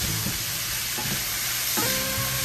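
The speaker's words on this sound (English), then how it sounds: "as I brown sausage, I like to keep it covered" Sausage sizzles steadily in a frying pan as it browns, a bright continuous crackle with faint scraping stirs breaking it up, close and alone.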